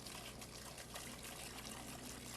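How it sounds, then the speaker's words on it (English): Cleaner poured into the tanks of a Hi-Tech Systems polyurea pump, a continuous close liquid gush with no break over a couple of seconds. "Now I'm going to put some more cleaner into the tanks."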